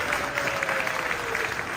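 Steady applause from the audience at a political town hall meeting in Boston, a continuous, fairly distant wash of clapping through the brief moment.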